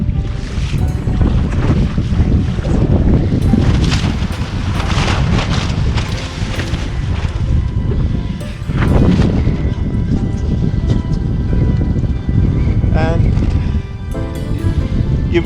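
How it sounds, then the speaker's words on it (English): Wind gusting around a sailboat out on open water, a steady loud rushing roar with a lull near the middle before it builds again, with indistinct voices underneath. "Here comes the wind."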